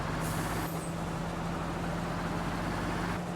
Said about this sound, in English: Get to use the old truck here to do some grain hauling